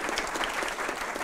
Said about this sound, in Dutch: Geef er een groot applaus.